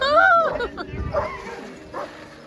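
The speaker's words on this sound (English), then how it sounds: "getting affectionate with these authentic working sled dogs" Working sled dogs at a kennel bark and yip in short, close bursts, with a few whimpering calls and faint voices in the background.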